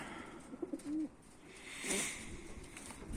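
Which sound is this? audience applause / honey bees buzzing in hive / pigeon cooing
pigeon cooing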